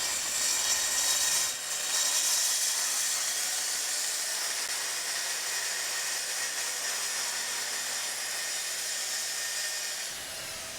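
Festool TS 55 track saw slicing through a sheet of plywood clamped under its track, a loud steady whine of the spinning blade running for about ten seconds before tapering off.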